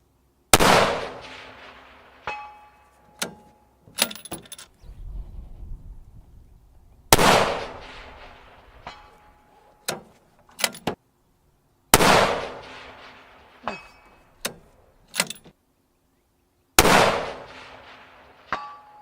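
A long-range rifle fires at steel targets 1,000 yards away: four sharp gunshots spaced several seconds apart, each followed by a fading echo and a faint distant metallic clang of the hit.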